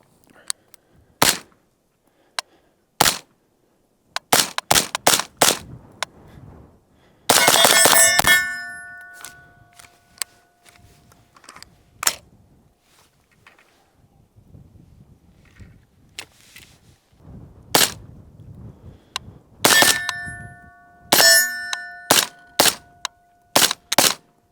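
Suppressed rifle shots from a 5.56 rifle fitted with a SilencerCo Velos LBP silencer and firing PMC 223 55 grain ammunition, a string of sharp, loud cracks, some single and some in quick bursts, with metallic ringing clangs and quiet gaps between.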